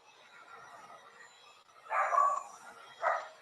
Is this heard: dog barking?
yes